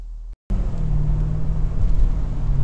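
After a brief cut, a Jaguar F-Type SVR engine rumbles loudly and steadily up close, a deep low growl that swells as the car pulls away.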